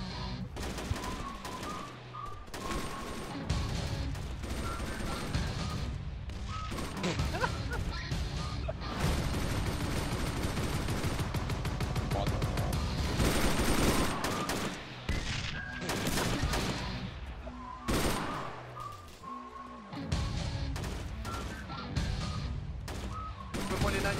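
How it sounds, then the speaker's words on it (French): Dense gunfire crackles almost nonstop in a video game police scene, with bursts of rapid shots, some heavy and close, mixed with shouting voices and chaotic noise throughout. "Coup de feu, coup de feu."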